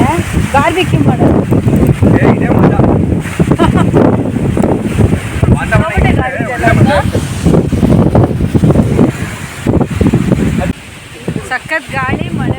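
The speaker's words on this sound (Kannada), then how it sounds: "ಸಖತ್ ಗಾಳಿ ಮಳೆ" A strong wind and rain storm roars in gusty, buffeting bursts against the microphone outdoors during a barbecue, with people talking excitedly throughout.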